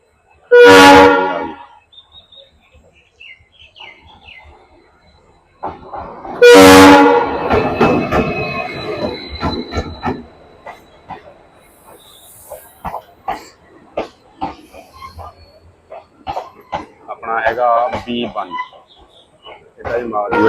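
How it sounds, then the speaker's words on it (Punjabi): A train horn blasts twice, loud and near, then wheels clatter and rumble as the train rolls into a station in Punjab, with people talking nearby. "ਤੇ ਟ੍ਰੇਨ ਪਹੁੰਚ ਚੁੱਕੀ ਆ"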